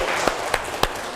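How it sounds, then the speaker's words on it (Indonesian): A classroom claps in three sharp, evenly spaced beats, each a short, crisp group clap at moderate volume over a faint room background. "Oke, tepuk tangan."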